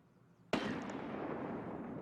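Grenade blast in Escape from Tarkov on the Customs docks map: a single sharp, loud explosion after a quiet moment, followed by a sustained rumbling roar as it dies away.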